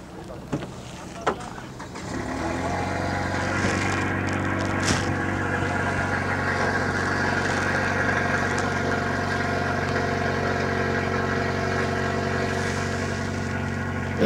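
An engine starts after a couple of clicks and settles into a steady, low, rumbling idle, close by and continuous.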